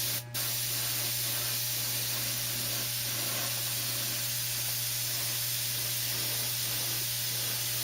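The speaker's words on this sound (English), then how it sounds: "you can kind of see the actual spray coming out of the airbrush" A steady, close airbrush hiss sprays Spaz Stix paint continuously for several seconds, even and unbroken, with no voices.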